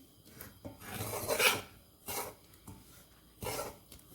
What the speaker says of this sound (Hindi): सूजी को मुसलसल आपने भूनना है।